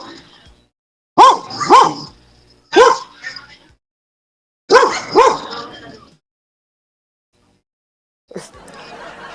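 Several sharp barks in two quick pairs, loud and close, followed by a brief rustly noise at the end.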